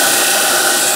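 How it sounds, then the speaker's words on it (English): A disc sander grinds down a Martin guitar nut in a workshop, giving one loud, continuous, close abrasive whir with no talking. "And I will take that down on the disc sander."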